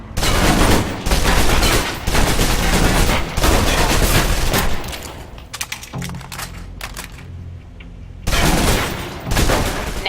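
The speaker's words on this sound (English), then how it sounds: "Now, let's move on to the submachine gun. Now let's empty the clip." Submachine gun in the video game Alpha Protocol emptying a full magazine: loud sustained bursts of rapid automatic fire, briefly broken by a quieter stretch of mechanical clatter before firing resumes near the end.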